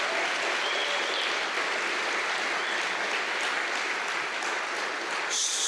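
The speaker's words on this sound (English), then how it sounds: "I'd like to hear a big round of applause for them." An audience at an all-candidates political debate applauds the candidates: dense, sustained clapping from a crowd, steady and fairly loud throughout with no voices over it.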